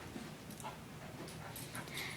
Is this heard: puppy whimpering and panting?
yes